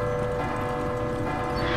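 Clock tower bells ring steadily in Resident Evil 2 Remake, a dense, sustained metallic peal that fills the whole stretch with no talking over it.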